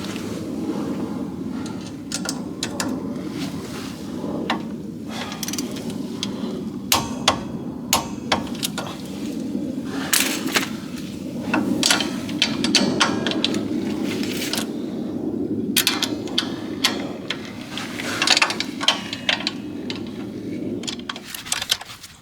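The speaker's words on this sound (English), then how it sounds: "I'm gonna torque them to 45 foot-pounds. So got me a good old torque wrench here" Metallic ratcheting clicks and clanks from a torque wrench tightening rear disc brake bolts to 45 foot-pounds on a 1973 Chevy Impala Wilwood conversion, steady and close over a low garage hum, with sharp taps scattered throughout.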